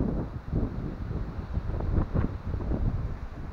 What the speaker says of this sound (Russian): Сильный ветер, чтобы меня было слышно.